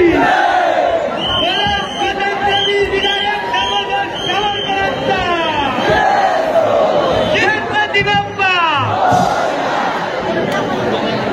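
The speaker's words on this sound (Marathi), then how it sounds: "गर्दी भरपूर वाढत चाललेली आहे" A growing crowd gathers for the Chinchpoklicha Chintamani arrival procession during Mumbai's Ganpati festival in 2024. Loud, continuous massed voices and cries rise and fall near by throughout, with many people shouting over one another.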